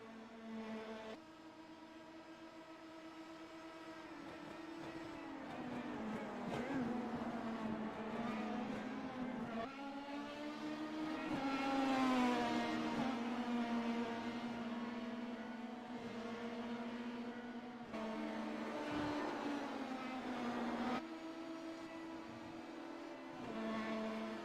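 A quiet car passes with a droning, buzzy engine hum much like an oversized bumblebee, its pitch rising and falling as it speeds up and eases off, faint and fairly distant.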